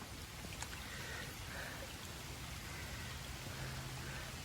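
Steady rain pours down during a tropical rainstorm with flooding water, a dense continuous hiss that stays even and moderately loud throughout without a break.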